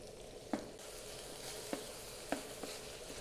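Spinach, chorizo and tomatoes sizzle and fry steadily in a pan on a gas camping stove, with a few soft scraping knocks as the mixture is stirred, close and quiet with no talk.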